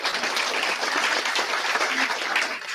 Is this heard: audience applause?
yes